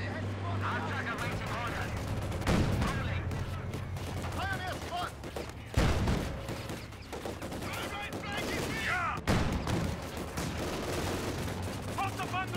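Battlefield gunfire in Company of Heroes 2 on a snowy map, dense rifle and machine-gun bursts crackling throughout with a few heavier loud blasts, mixed under game voices calling out orders.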